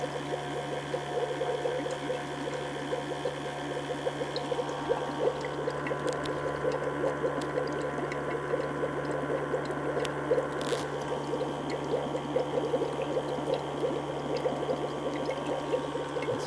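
Air bubbling steadily through woad liquid during indigo extraction, a continuous close gurgling and fizzing that holds unchanged throughout.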